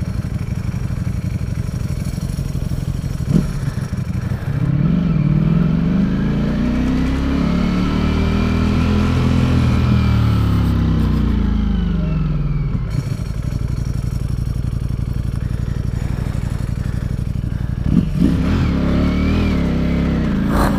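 A Ducati Streetfighter V4 SP on its stock exhaust revs hard nearby, the engine note climbing and falling in long sweeping pulls with crisp blips between, loud and without talk.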